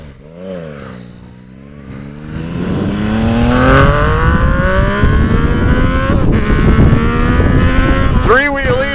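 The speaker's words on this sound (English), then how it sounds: "3-cylinder engine." Yamaha Tracer 900 (FJ-09) sport-touring motorcycle with the MT-09 three-cylinder engine revs up, its rising engine note climbing and holding loud and close for several seconds, with a sharper surge near the end.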